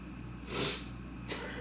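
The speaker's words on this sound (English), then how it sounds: "I was sniffling." A person sniffles with allergies, two short nasal intakes of air, the first longer and louder, the second a quick faint snort, close by in a quiet room.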